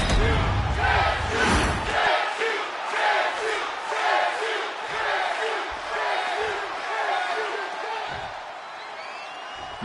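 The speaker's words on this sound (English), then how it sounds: "the Chase U cheering section is out in full force." A loud, dense crowd cheers and chants from a college cheering section at a wrestling match in the video game WWE 2K25, sustained and rhythmic across the whole stretch.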